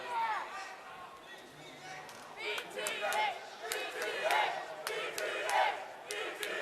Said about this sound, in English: The crowd getting fired up for Believe the Hype.